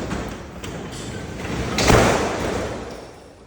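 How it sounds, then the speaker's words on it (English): An improperly balanced garage door drops and slams back down, giving a long rumbling slide that builds to a heavy hit partway through and then rings out, loud and close, with no one talking. "it shouldn't slam right back down"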